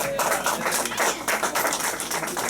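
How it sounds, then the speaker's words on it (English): A small tour group at Sun Studio in Memphis claps for an Elvis tribute band, brisk, uneven handclaps close by that continue throughout. "How about a round of applause for our Elvis tribute band?"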